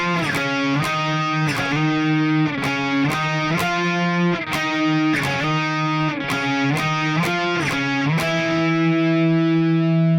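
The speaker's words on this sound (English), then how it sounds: "So the lead guitar is playing this part, these octave swipes here on the 5th string." A distorted lead electric guitar plays octave swipes on the fifth string, with bright, heavily driven sustained notes and rhythmic scratchy strums repeating in a steady pattern, loud and solo.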